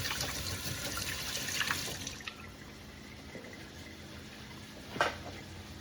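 Water runs from a tap as a container is rinsed out in a kitchen sink, a faint steady splash that stops partway, followed by a quiet clink.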